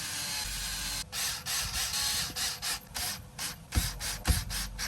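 A 2.5 mm hex driver snugs screws on a Traxxas Sledge RC car during differential service, giving close, steady metallic rubbing and ratcheting scrapes with brief pauses between turns and a couple of sharper clicks near the end.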